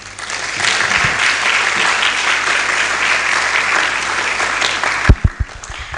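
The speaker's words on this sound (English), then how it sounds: "Ladies and gentlemen, another round of applause for Dr. Donald Kaberuka." Sustained audience applause at a public investment management conference, steady and dense for about five seconds before breaking into a few scattered final claps.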